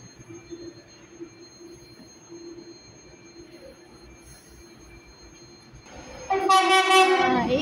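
A train rushes through Modena station without stopping: a quiet platform hum swells into a loud, close roar with high metallic wheel squeal over the last seconds.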